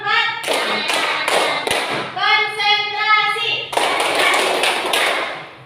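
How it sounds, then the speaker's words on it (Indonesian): A classroom group claps a counted hand-clap pattern as a pre-lesson focus routine, with sharp taps in rhythmic bursts and a teacher's and children's voices speaking between and over the claps. "Tepuk 1, tepuk 2, tepuk 3, tepuk 4."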